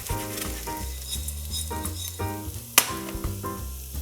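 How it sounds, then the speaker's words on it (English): Pine nuts toasting in a hot pan for a stuffed mussel filling give off a steady, close crackling sizzle with stirring, one sharp clack near the end, and tonal background music underneath. "20 grams of pine nuts for the stuffing. I just add them on the pan."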